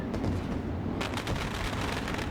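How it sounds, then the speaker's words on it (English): Fireworks bursting over a dirt late model race finish in a racing video game, a continuous crackling, popping barrage that intensifies about halfway through, loud and dense with no talk. "Fireworks."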